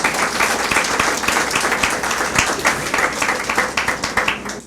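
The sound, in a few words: church congregation applause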